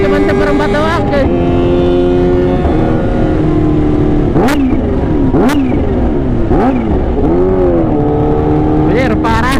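A Kawasaki H2 motorcycle accelerates hard with a loud, close engine roar rising through the revs, its pitch climbing and dropping at several gear changes, with a characteristic high supercharger whine on top.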